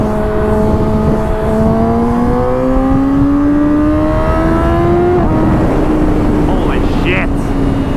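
Yamaha R6 motorcycle accelerating hard past 8,000 RPM, its engine note climbing steadily in pitch, then dropping at a gear change and pulling again, loud and close with wind noise throughout.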